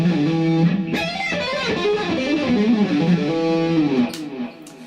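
A fast run on distorted electric guitar, notes cascading quickly in a continuous sweep before a sharp stop, close and loud.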